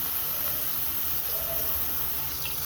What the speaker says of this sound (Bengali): এখন আমি এগুলাকে তেলের মধ্যে ছেড়ে দেব